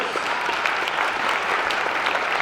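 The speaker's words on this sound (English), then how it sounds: "how about an awesome round of applause for both of our great Diamond sponsors?" Warm round of audience applause at a chamber of commerce annual dinner, a dense, even patter of many hands clapping across the room for the sponsors, with no speech over it.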